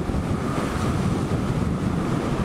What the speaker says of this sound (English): Bloody hell, it is windy.